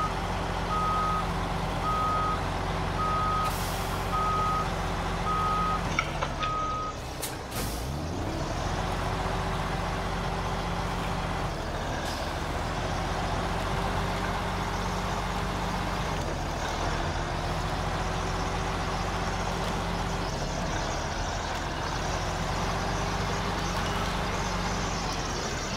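A Mack Defense M917 truck backs up with a trailer in tow, a steady diesel engine drone rising and settling under loud repeating reverse alarm beeps, with a brief air hiss partway through.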